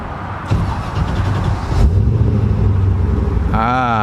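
An LS V8 engine swapped into a Mercedes 380SL R107 cranks briefly, catches and settles into a loud, deep idle rumble close by; a voice speaks near the end.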